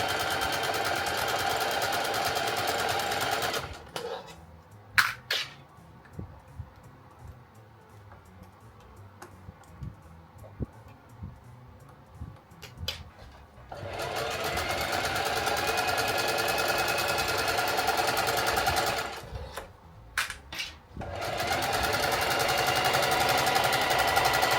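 Sewing machine stitching a zipper pouch, running steady bursts forward, pausing, then backstitching and running forward again, close and loud with quiet handling gaps between runs.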